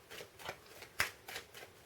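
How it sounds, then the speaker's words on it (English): A magician gives a deck of playing cards a quick shuffle, making several soft riffling bursts in a light rhythm with one sharper snap, close and quiet with no talk. "we'll just have a bit of a quick shuffle"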